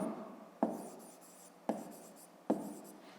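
Pen strokes scratch on paper during a fifth-grade math lesson, three short bursts of close, quiet writing, each starting with a tap and fading, with pauses between.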